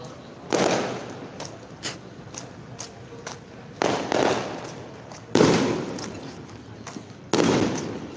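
Firecrackers burst during a Taiwanese temple procession tour in Yanshui, loud crackling volleys arriving in several separate bursts, each sharp onset followed by a decaying rattle, with quiet gaps between.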